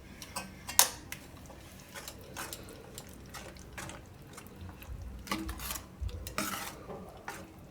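A spoon stirs a yogurt-based palak paneer raita in a bowl, giving soft scraping and clinking strokes at an irregular pace, fairly quiet and close, with a few sharper taps against the side.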